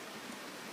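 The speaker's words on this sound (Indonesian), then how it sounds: "di sini masih hujan dan kita masih nunggu hujan." Steady rain falling outdoors, an even hiss with no breaks.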